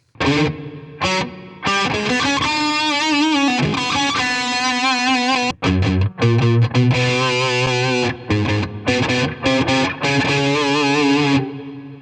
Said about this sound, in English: Let's move on to digital reverb.